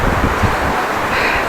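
Wind gusts across the microphone at Muzhappilangad beach, a rough, buffeting rumble with brief low thumps, steady and fairly loud over the short stretch, without speech.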